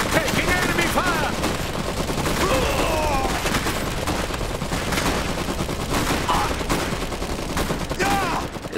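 Gunfire from enemy squads in the Iron Harvest strategy game: sustained loud volleys and rapid machine-gun bursts, with scattered voice callouts and chirping effects layered over a dense battle din.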